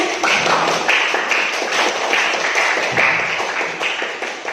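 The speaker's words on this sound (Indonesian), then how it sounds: "tepuk tangan dulu untuk semuanya" Loud audience clapping at a high school student council debate, a full burst of hands that swells and eases in waves over a few seconds.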